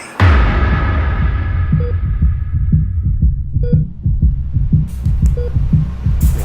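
Heartbeat sound effect in a game, a loud low thumping pulse in steady double beats over a humming drone, with faint tones flickering above.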